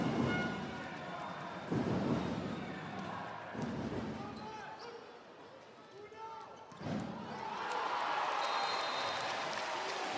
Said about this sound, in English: that's going to get the crowd cheering them on again